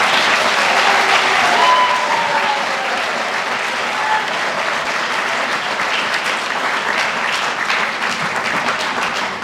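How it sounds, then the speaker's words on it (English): A crowd at a Grade 12 academic awards ceremony applauds bursary and scholarship winners, a loud, sustained wash of clapping that tapers slightly toward the end. "we would like you to invite you to applaud in recognition of their achievement"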